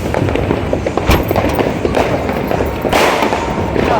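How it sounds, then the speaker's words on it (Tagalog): Firecrackers bursting at a provincial New Year celebration in the Philippines, a dense, continuous crackle of many small pops with several louder bangs standing out, loud and close. "Sarap po paputok dito sa probinsya."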